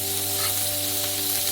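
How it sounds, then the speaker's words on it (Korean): Chopped onions sautéing in olive oil in a frying pan on a stove, a steady close sizzle running unbroken under a faint low hum, with no talking. "양파를 볶아주세요."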